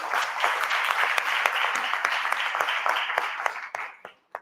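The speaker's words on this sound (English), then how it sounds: "Give Devro a round of applause" Audience applause at a business talk in Eldorado Park, a crowd clapping steadily with distinct individual claps, thinning out and fading to a few last claps near the end.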